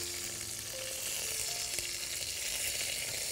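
Chicken pieces sizzle and fry steadily in a hot pan, a dense, even crackle that holds at the same close, fairly loud level throughout, with no voices over it.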